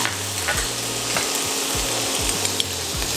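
Beef basil fried rice is stir-fried in a hot pan, with a steady loud sizzle and rhythmic scraping strokes of the spatula repeating roughly twice a second, close up and with no voices.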